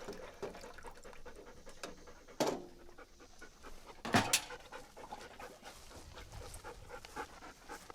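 Retriever dog panting steadily during a training session, a soft rhythmic breathing close by with a couple of sharper bursts of handling noise.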